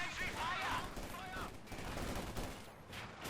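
Rapid small-arms gunfire in a World War II battle in the strategy game Company of Heroes 2, a dense rattle of shots with a voice talking over it throughout.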